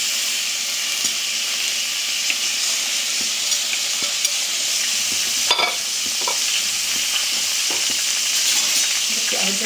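Vegetables sautéing in a little oil in a pan, a loud continuous sizzle with scraping strokes of a stirring spoon throughout, close and without talk.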